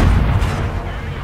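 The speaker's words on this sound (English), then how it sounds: "You can see that they've really worked on the explosions." A tank shell explosion in World of Tanks, played in a T-44, fills the clip as a loud, dense, rumbling blast with a heavy low end that stays sustained throughout.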